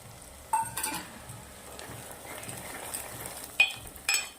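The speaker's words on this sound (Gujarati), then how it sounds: "હવે આપણા જે લીલા વટાણા ખોલેલા છે એ નાખી દઉં છું" Green peas tipped into hot oil with potatoes and onions that have browned to pink, giving a steady low sizzle with a few sharper crackling bursts near the start and end, no voices.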